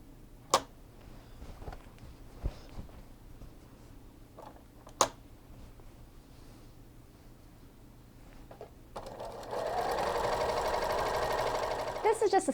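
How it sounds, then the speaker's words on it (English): A few sharp clicks and taps, then a sewing machine starts up and runs steadily, stitching down a quilt binding, a fast whirring stitch that continues to the end. "take it back to the sewing machine and just stitch all the way down."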